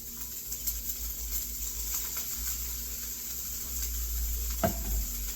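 Potatoes and carrots going into a stir-fry pan for beef stir-fry, giving a steady close sizzle with a brief louder burst near the end; no one talks.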